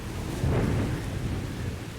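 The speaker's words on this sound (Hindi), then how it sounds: "तभी अचानक तेज बारिश शुरू हो गई और बादल गरजने के साथ साथ बिजली भी चमकने लगी" A deep rumble of thunder rolls beneath a steady wash of heavy rain, loud and enveloping.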